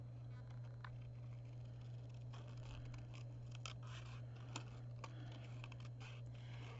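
Scissors cut paper along a curvy line for a Christmas tree craft, giving a soft, steady run of close snips and scratchy rustles over a low constant hum.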